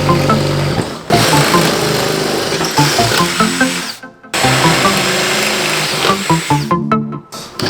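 Power drill boring holes through the thick rear hatch of a Nissan 350Z during a body kit install, loud and close, running in long sustained bursts with brief pauses between.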